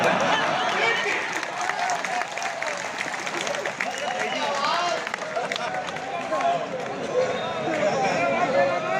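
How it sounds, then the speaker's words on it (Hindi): Applause from the audience at an open-air Hindi poetry gathering, dense and sustained clapping from a large crowd, loud and close, with voices mixed in. "तालियां बजाओ ऐसे ही।"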